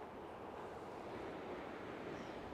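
Ocean waves on the winter coast at Hokkawa on the Izu peninsula in January, a steady, soft wash of surf mixed with wind, continuous and fairly distant, with no talking.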